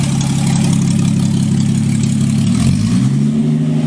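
Rebuilt Lexus IS200 turbo engine running on an open exhaust, a loud, steady rumbling idle that rises slightly in pitch near the end as the revs climb.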